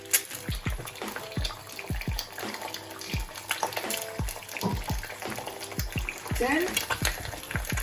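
Eggs frying in oil in a pan, a steady, close sizzle and crackle with repeated bright clinks and scrapes over it and a brief voice.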